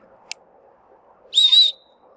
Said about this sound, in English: with the whistle.